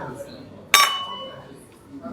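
A spoon strikes a glass of tea at a tea spot in Karama, Dubai, giving one bright, ringing clink amid quiet background murmur.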